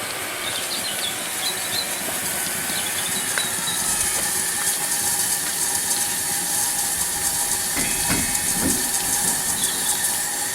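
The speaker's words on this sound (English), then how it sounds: "open the engine steam blower" The steam blower on an LNER A4 steam locomotive hisses loudly and continuously, a broad steady roar of escaping steam with a faint squealing edge and occasional low knocks beneath it, no voices.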